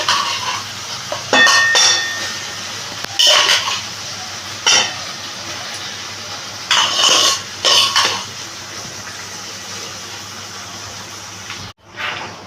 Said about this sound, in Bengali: ডালটা আমি দিয়ে এবারে মশলাটার সাথে ভালো করে মিশিয়ে নিচ্ছি